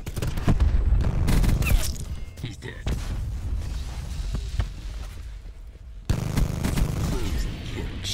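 Close-range rapid fire from a fast-shooting gun in Black Ops 4: dense bursts of shots in the foreground come and go across the stretch, with someone talking over much of it.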